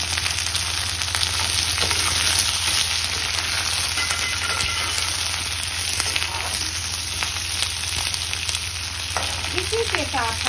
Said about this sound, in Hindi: अब हम अपनी प्याज डाल देते हैं।